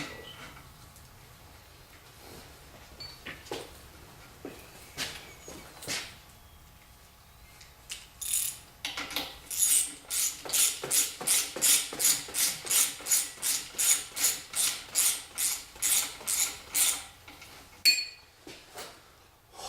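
A ratchet wrench torquing bolts on a V8 Miata engine build, first a few scattered clicks and metal clinks, then a long, even run of loud rapid ratchet clicks close up, ending with a couple more clicks.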